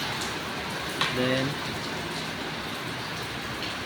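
Steady rain falls outdoors at night around a vehicle, a constant hiss that runs throughout, with someone speaking briefly over it.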